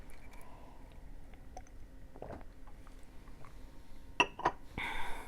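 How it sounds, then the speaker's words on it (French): A drink is sipped near the end of a quiet stretch: a couple of short, close, soft slurping and swallowing sounds, with no talking. "Alors je vais prendre une gorgée."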